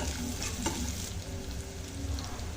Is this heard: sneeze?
no